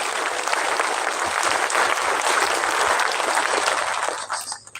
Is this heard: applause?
yes